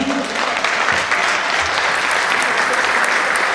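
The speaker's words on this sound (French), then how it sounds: "Est-ce qu'on peut l'applaudir?" A theatre audience gives sustained, full applause for the troupe's president, Hector Nombo; thick steady clapping runs throughout, with faint voices mixed in.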